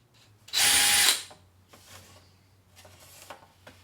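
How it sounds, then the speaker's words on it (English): A short burst of a power drill whining into a wooden cajon faceplate, about half a second long, followed by quiet scraping and handling noises. "Once you've drilled the holes,"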